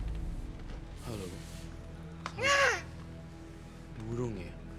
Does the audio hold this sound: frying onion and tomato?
no